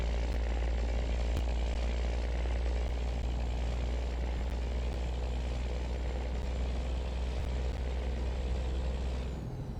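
A Cummins-powered Peterbilt truck with an Eaton 18-speed transmission idles in American Truck Simulator, its deep engine drone steady, loud and close, with no talk, fading slightly at the very end.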